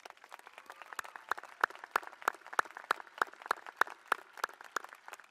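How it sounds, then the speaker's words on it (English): Applause from the audience at a class of 2023 graduation ceremony, heard as scattered, moderately paced claps that sound fairly distant and thin rather than a full roar. "Can we give everyone a round of applause?"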